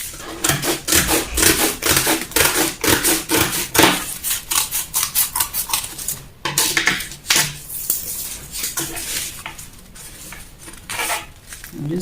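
Scissors snip and crunch through fabric in a rapid, steady series of sharp cuts, close by, with a short pause midway before more irregular snipping continues.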